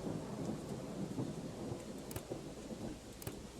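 Thunder rumbles low beneath steady rain in the horror video game Within the Depths during a lightning flash, a faint, continuous rolling storm with a few sharp crackles, no voices.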